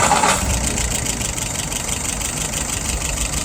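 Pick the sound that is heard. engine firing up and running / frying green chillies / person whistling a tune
engine firing up and running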